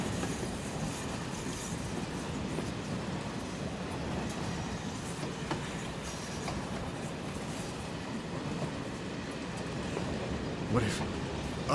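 A train in the Final Fantasy VII Remake video game rumbles steadily along its rails with a dense, continuous rolling clatter and an occasional faint wheel squeal, while game characters talk over it.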